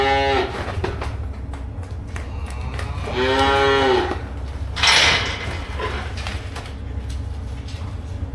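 Cattle mooing inside a barn, with two or three drawn-out, fairly loud calls standing out over a steady low rumble of animals and barn noise, and no talking.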